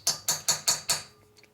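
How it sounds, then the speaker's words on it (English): A small hammer strikes a center punch set on a bolt while a 1992 Harley FXR Evolution 88ci motor is being rebuilt. Five sharp metallic taps come close together in an even rhythm, then stop into near silence. "You use small punches, a small hammer."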